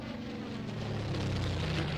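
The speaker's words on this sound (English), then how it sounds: "Makes a lot of noise, so it's a good display airplane." A loud display airplane at a British air show roars steadily, a broad droning engine noise close and continuous with no talk.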